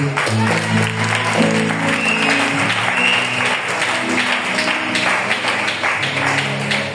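A church congregation applauding to acclaim the Lord, a loud, dense and steady wash of clapping from many hands that fills the whole stretch without pause.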